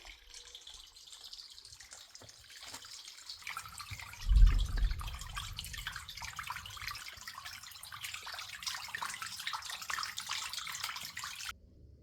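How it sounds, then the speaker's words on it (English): Water gushes and trickles steadily as it drains out of a flooded farm bed, with a low splashing surge early on, continuing for several seconds before cutting off. "I'm just watching all the water drain out of one of these beds"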